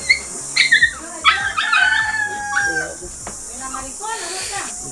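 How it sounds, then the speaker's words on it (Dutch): A puppy yips and whimpers in the background near a boat moored in a mangrove swamp, with bright short cries coming in bursts over steady ambient noise. "die puppy die je hoort op de achtergrond"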